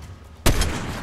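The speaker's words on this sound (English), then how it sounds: "Oh, this guy got sniped." A sniper rifle shot in a ranked online shooter game cracks out loud and sharp, a single blast followed by a lingering echoing tail after a quiet background.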